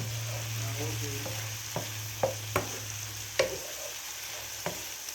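Chicken sizzles steadily in brown butter in a skillet, a soft constant fry with a low hum behind it, cut by several sharp clinks and scrapes of a utensil stirring the pan.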